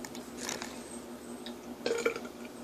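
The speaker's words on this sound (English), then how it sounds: "With that one burp, I could have probably had one more slice." A burp after eating a stuffed crust pizza, a short guttural belch near the mic, with a brief earlier throaty sound and quiet room noise in between.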